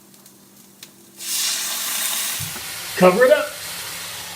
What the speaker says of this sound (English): So now you're going to let these beautifully charred Brussels sprouts simmer in the white wine for a good 2 to 5 minutes.